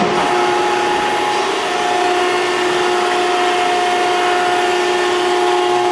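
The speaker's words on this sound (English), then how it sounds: "first stroke, the ram goes forward. And retracts." A Maren Engineering Model 72 closed-end baler runs its hydraulic ram forward and back, a steady loud mechanical hum with a constant whine throughout, close up and without speech.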